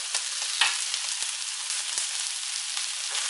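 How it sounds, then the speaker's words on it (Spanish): Pork ribs and roasted peppers sizzle on a hot griddle plate with a steady, close, continuous crackle and hiss, with no talking. "Le vamos a ir dando la vuelta a los pimientos para que se vayan haciendo por el otro lado."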